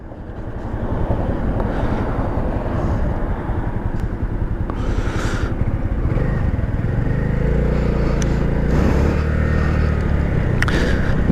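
A small Honda motorcycle cruises along a highway near its top speed, engine droning steadily under loud wind rush and road noise, with a shifting low hum as speed changes.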